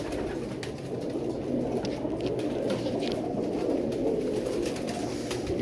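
Danish pigeons coo steadily in a mixed flock, a dense, continuous low murmur of overlapping calls close by with no talking over it.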